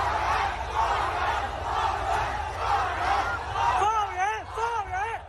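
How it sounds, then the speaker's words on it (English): Large crowd of demonstrators shouting together at a street protest in Shanghai, a continuous roar of massed voices with rising chant-like swells and piercing individual yells toward the end. "Crowds of demonstrators shouted and held up blank sheets of paper in rare open protests against the Chinese government."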